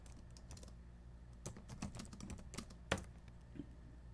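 Keystrokes on a computer keyboard come in irregular bursts of close, moderately loud clicks, with one sharper tap near the end; no one speaks.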